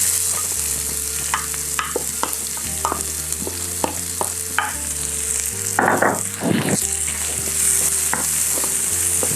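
Onions with curry leaves sizzle steadily in a pan for masoor dal, with repeated stirring scrapes and clinks of a spoon against the pan, close and without talk.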